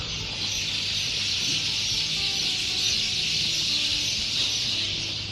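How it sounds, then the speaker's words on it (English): Dense chorus of birds outside a hotel room at Hotel Costa Calero in Lanzarote, a steady bright wash of chirping filling the air for several seconds with no talk over it. "I just want to let you listen to all these birds outside the room."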